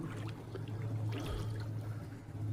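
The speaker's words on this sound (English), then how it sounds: "Just get down in here in this creek, walk around in this water" Someone wades through a creek, making faint, soft trickling and sloshing of moving water at a low, steady level with no talking.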